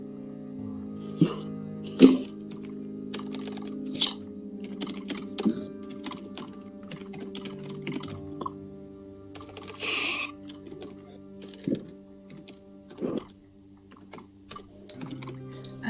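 Intermittent clicks of typing on a computer keyboard in a quiet room, with a steady hum and occasional soft voice sounds or throat noises.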